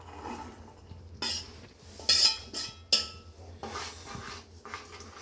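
Green peas (matar) going into a pan for paneer matar masala and being stirred, heard as a few clattering scrapes of a metal spoon against the pan with a faint sizzle underneath.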